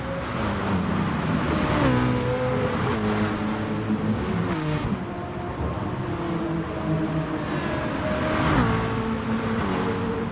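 Racing cars lap in a sim racing game, several engines droning and shifting pitch together as they accelerate and change gear, a loud continuous pack of motor sound with no talk.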